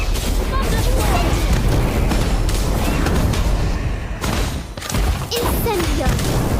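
Thunderstorm spell cast in Harry Potter: Magic Awakened, loud rumbling booms and crackling bursts rolling almost continuously, briefly dipping before surging again, with a voice speaking in the mix.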